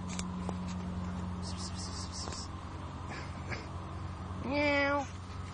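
A cat meows once, a drawn-out wavering cry near the end, after quieter background sounds and a faint earlier mew.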